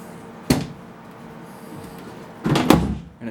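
Thumb screws loosen and the side panel comes off a RAIDMAX Vampire Winterfall Edition full-size tower case: a sharp metallic knock, a pause, then a longer scraping clatter as the panel slides free, close and fairly quiet.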